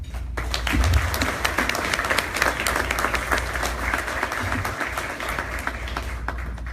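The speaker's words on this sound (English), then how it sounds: "I'd like you all to join me in a round of applause" Sustained applause from an audience at an awards gala, many hands clapping steadily for several seconds at a fairly loud, even level.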